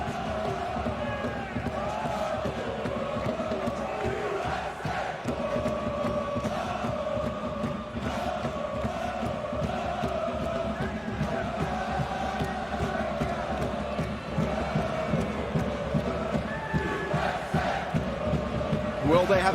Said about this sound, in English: now the crowd's gotten into it as well